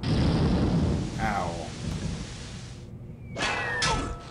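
Thunder rumbles with rain in a quiz video game's sound effect, a loud crackling roll that drops away and then swells again, with a short voice exclamation over it.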